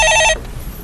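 A telephone rings on a live Korean stock-market call-in radio show, a loud electronic bell trill with repeated bursts lasting about a third of a second, then cut off, leaving studio room tone.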